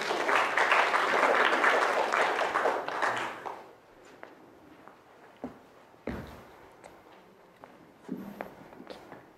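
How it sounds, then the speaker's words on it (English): An audience applauds as a volunteer walks onto the stage, a few seconds of clapping that fades quickly, followed by scattered footsteps and knocks in a quieter room. "Give this man a round of applause."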